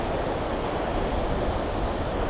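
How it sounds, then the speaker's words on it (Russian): Strong wind rushing and blustering loudly and continuously on a long bridge at Iguazu Falls, with no voices. "Еще здесь, кстати, поднялся сильный ветер."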